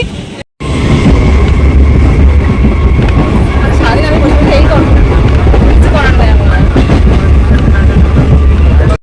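Loud rumbling local train with squealing, screeching wheels on the rails as it slows into a station, dense and close.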